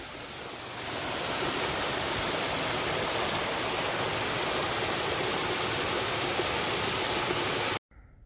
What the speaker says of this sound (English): I'm at the Hardcore Cascades.